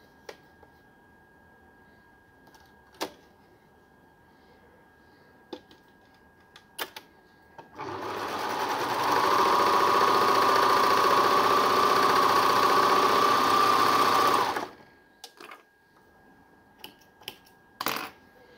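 A Baby Lock Accolade coverlock machine stitches a seam in one steady, loud mechanical whir of about seven seconds, starting and stopping abruptly, with faint clicks and handling noises before and after.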